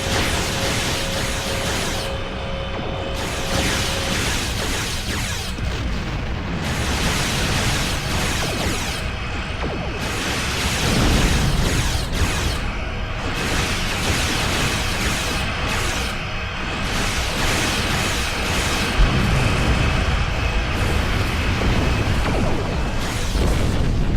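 Starship weapons fire and explosions from the video game Star Trek Online, a dense, continuous barrage of bursts and booms layered over steady engine hum, loud and close for the whole stretch.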